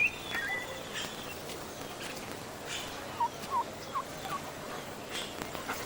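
Domestic turkeys gobble in a Maya village setting: short, faint gobbling bursts repeat every half second or so over a steady outdoor hiss.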